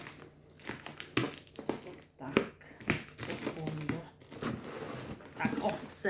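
Crinkling and tearing of packaging tape on a cardboard parcel in irregular bursts, close by, with a voice speaking intermittently over the rustling.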